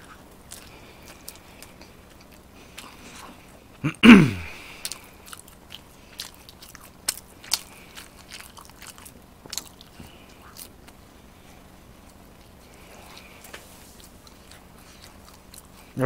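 Close, moist chewing and occasional crisp bites of pizza and pickle during an eating broadcast, with sparse clicky mouth sounds and one louder bite standing out against a quiet room.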